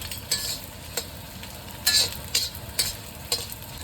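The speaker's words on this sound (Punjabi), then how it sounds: "ਸੇਮ ਘਿਓ ਦੇ ਵਿੱਚ ਹੀ ਹੁਣ ਆਪਾਂ ਥੋੜੀ ਚਾਰ ਗੋਨ ਪਾਈ ਆ ਇਹਨੂੰ ਵੀ ਭੁੰਨ ਲਾਂਗੇ" Edible gum roasting in desi ghee in a kadai for panjiri, a soft continuous sizzle broken by irregular scrapes and clinks of stirring, close by and moderately loud, no voices.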